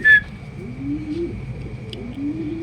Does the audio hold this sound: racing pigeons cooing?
yes